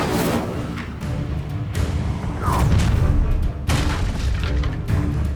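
The Incendio fire spell in Hogwarts Legacy on PS5 goes off in loud, rumbling booms and whooshing bursts that fill the whole stretch, with a few sharp breaks between blasts.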